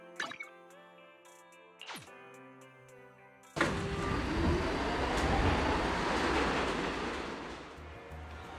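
Metro train ride in the video game Zenless Zone Zero: soft tonal chimes and electronic tones give way to a sudden, steady rumbling roar of the moving train, loud and continuous.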